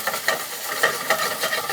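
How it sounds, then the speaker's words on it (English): Food sizzles in a pan over medium-high heat with oil, a close, crackling hiss pulsing in quick bursts as it is stirred, no voices. "You wanna hear that sizzle."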